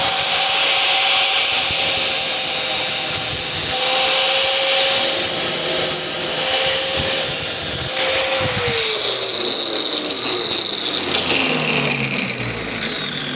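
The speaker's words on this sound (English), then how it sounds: "with the grinder is just trim that out a little bit until I've got a nice reasonable fit on all of them" An angle grinder trims suspension mounts for a DIY home-built car, a steady loud whine running the whole time with the pitch slowly falling near the end.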